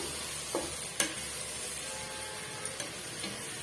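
Mutton biryani masala with chili powder sautéing in a pan gives off a soft, steady sizzle, with a few light stirring clicks scattered through it.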